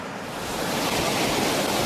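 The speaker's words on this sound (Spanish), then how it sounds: "Esta cascada tiene 25 metros de anchura y 60 de altura" Glacier-fed waterfall on the Skoga river, about 60 metres high and 25 metres wide: a loud, constant broadband rush of falling water with no pauses.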